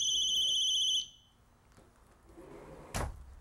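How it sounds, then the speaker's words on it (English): A sliding glass door alarm at a backyard pool sounds a piercing, pulsing electronic beep for about a second before being shut off, followed by quiet room noise and a brief clunk near the end. "That was an alarm that I just shut off on the sliding glass door."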